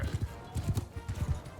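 A horse gallops in Mount & Blade: Bannerlord, its hoofbeats falling in a fast, pulsing rhythm of heavy thuds, close and fairly loud.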